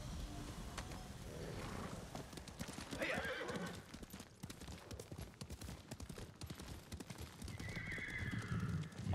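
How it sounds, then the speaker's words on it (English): Hooves clatter in a rapid, continuous rhythm beneath a low rumbling background, with a horse neighing faintly near the end; galloping horses in the video game Ghost of Tsushima. "Are there horses running too?"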